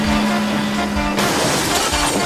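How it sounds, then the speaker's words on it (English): In a Thomas & Friends model railway scene, a flatbed truck crashes into a stack of roofing slate, giving a sudden loud shattering burst midway that follows a steady tone and then keeps clattering. "Carlo's flatbed biffed into the sidings, cracked into a stack of roofing slate,"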